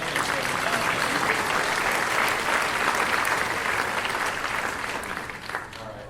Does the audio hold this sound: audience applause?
yes